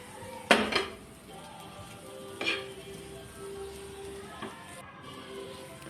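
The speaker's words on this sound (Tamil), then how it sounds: "மசாலா முட்டைலாம் நல்லா கலந்து ஒரு 2-3 மினிட்ஸ் வேக வச்ச போதும்." Masala egg being stirred in a pan, with a few sharp clinks of a spoon against metal over a soft, steady background hiss, spaced a couple of seconds apart.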